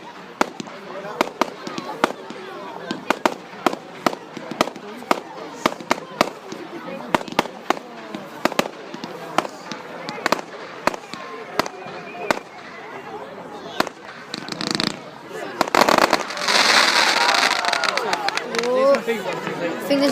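Fireworks bursting on bonfire night, a rapid run of sharp pops and cracks spread through the first fifteen seconds, then a louder, sustained crackling barrage, with people chattering and calling out around them outdoors.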